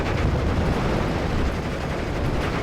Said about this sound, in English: We'll strafe the FK-39 now.